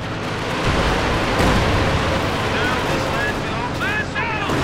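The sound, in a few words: Hay mortar artillery firing in video game Company of Heroes 2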